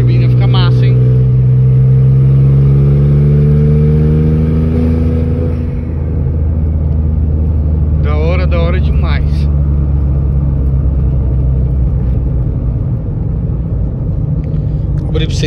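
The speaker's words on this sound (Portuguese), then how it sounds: "Abri pra vocês ouvir o barulho do escape," A turbocharged Volkswagen Up car engine rumbles and its exhaust drones as revs climb and settle while accelerating, loud and close, with a voice speaking briefly over it.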